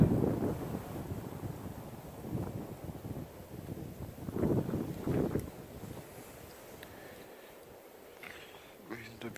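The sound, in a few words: wind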